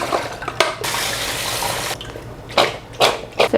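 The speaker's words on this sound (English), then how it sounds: "Drain the rice cake." Water from boiled Korean rice cakes pours out into a sink, a loud rushing splash lasting over a second, followed by several short bursts of splashing and dripping as the pot is tipped.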